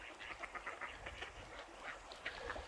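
Ducks on a riverbank at dusk quack in a steady stream of overlapping calls, several birds at once nearby, with faint outdoor ambience and no talking.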